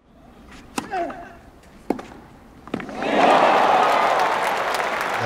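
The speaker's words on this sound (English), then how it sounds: "And applause from Djokovic" Sharp tennis ball strikes ring out at the Roland-Garros men's semi-final between Nadal and Djokovic, then a stadium crowd bursts into loud, sustained applause that fills the rest of the moment.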